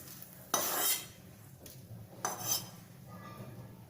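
Roasted cumin seeds are scooped out of a pan with a spoon, giving two short, close scraping clinks of metal against the pan amid quiet kitchen background.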